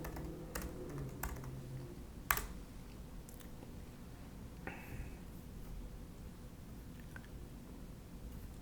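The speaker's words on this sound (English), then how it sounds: "we begin by typing in the passage of Scripture that we're interested in." Quiet keyboard typing, a scattering of soft key clicks with a few sharper taps, close by and with no talking.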